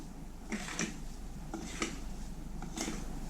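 A spoon stirring eggs, sugar and butter into a yeast dough starter, three soft clinking scrapes against the bowl spaced about a second apart, quiet and close.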